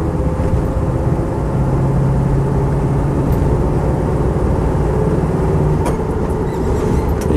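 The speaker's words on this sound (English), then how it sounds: "You can never tire the sound of these V8s." A Land Rover 90 V8 County on the move: a steady, loud engine drone with a low rumbling note and a faint whine rising and settling, heard from inside the vehicle with no talking.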